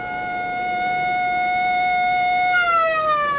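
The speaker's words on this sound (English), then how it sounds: "that siren means I'll be called back" A wailing civil defence air-raid siren in a 1961 setting, a steady loud harmonic tone holding level, then sliding downward near the end as it begins to wind down; no one speaks.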